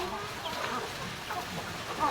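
Chickens, including Rhode Island brown-egg layers, cluck continuously and close by in a farm pen, a busy overlapping chorus of short calls with faint background noise.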